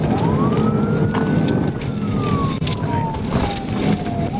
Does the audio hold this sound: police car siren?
yes